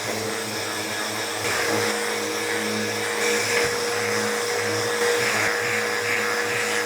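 Dried wood filler on a scrap wood wine tote is sanded with a power sander, producing a steady, loud, close motor drone with a buzzing hum that never lets up.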